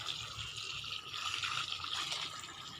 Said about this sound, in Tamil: சரி, இதுக்கு தண்ணி பாய்ச்சி வச்சு